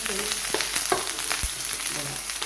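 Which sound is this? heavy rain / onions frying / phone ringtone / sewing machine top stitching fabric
onions frying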